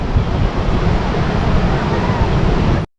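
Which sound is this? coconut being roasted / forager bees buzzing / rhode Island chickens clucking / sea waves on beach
sea waves on beach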